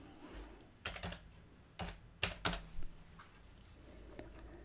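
Keys tapped on a computer keyboard while a number is entered, with a few separate clicks in short clusters, close but soft in a quiet room.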